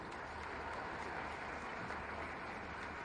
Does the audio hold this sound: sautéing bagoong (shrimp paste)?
no